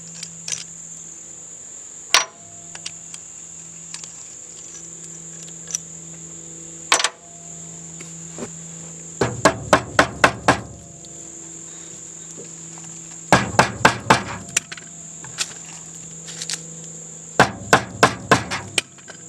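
Hammer blows strike a steel flywheel on an old scrapyard saw motor, coming in quick bursts of four to six sharp metallic hits separated by pauses, close, with a few single taps and a steady insect-like hum behind.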